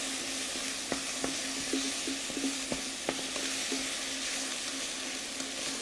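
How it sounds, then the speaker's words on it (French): Lamb pieces and bones sear in a pan for a seven-hour leg of lamb, giving a steady, close sizzle with scattered small pops and stirring clicks throughout. "on laisse saisir un petit peu pour que les morceaux les os commencent à cuire également un petit peu en surface"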